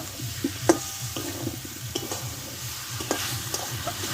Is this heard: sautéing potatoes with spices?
yes